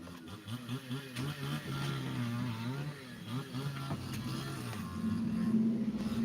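A white motorcycle moves off nearby, its engine note rising and falling as it revs and pulls away, a moderately loud motor hum with faint background sounds.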